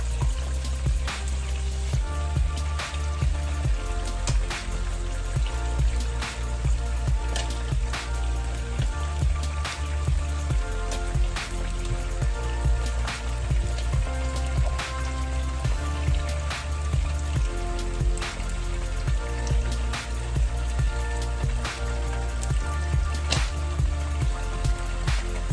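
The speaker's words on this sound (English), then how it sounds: "I'm going to try and sieve everything through the strainer so that everything just come out in one good mix" A liquid mixture for Jamaican fried fish and festival is poured through a strainer, producing a steady patter of drips and trickling liquid that continues at close range with no one speaking.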